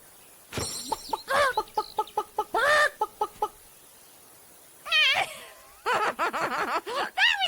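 Chicken clucking from a sound clip known as Chicken Chaser: bursts of sharp, repeated clucks and squawks in rhythmic runs with short silent gaps, close and clear.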